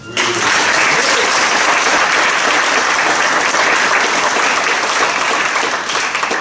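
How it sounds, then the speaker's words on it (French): A rally audience at a Front National meeting in Blanc-Mesnil applauds candidates, loud, dense clapping filling the hall steadily from start to finish with no voices rising above it. "je pense que l'on peut applaudir très fort les candidats"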